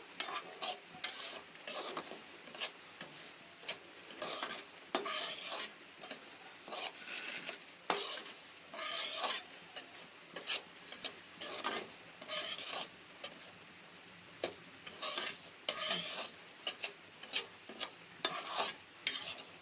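Semolina is stirred and roasted in a dry pan for ravva laddus, giving repeated rhythmic gritty scrapes and rasps, each sweep a short burst with brief pauses between, close and moderately quiet.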